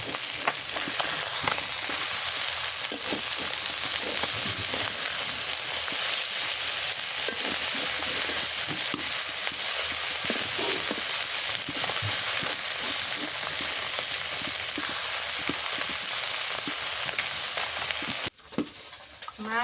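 Small river puti fish fry in a pan of hot oil, a loud, dense, continuous sizzle with stirring scrapes running throughout and a sudden drop right at the end, no talking.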